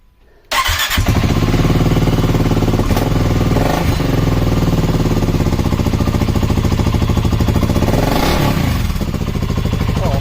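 A 2023 BSA Gold Star 650 with an enlarged-hole modified exhaust idles loudly nearby after a quiet start, its thumping single-cylinder beat steady and rough, with a couple of brief throttle blips midway and near the end.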